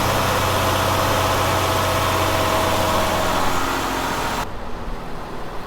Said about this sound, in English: it seems like it's just not returning to idle after you snap the throttle